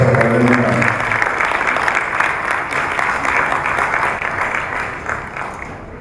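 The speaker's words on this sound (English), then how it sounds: "Please have a beautiful round of applause for Professor Orenuga." Sustained audience applause at a university international week session in Lagos, a dense steady wash of clapping from a large crowd that holds loud for six seconds and tapers slightly at the end, with no talking over it.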